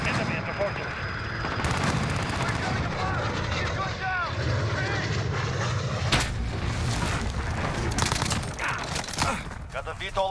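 Rapid bursts of gunfire and explosions in a Call of Duty Modern Warfare match, loud and continuous, with a voice talking over the din.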